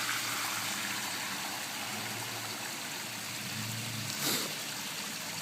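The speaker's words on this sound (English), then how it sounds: "we got some dirty water coming out here" Dirty water gushing out of a pool sand filter's backwash line, a steady broadband rushing flow heard close up, with a brief louder splash near the end and no talk.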